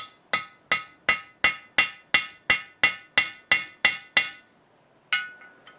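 A hammer strikes the snapped-off stub of a drill bit lodged in an old engine block, a dozen sharp metallic blows in an even rhythm, close and loud, followed after a pause by one last ringing hit.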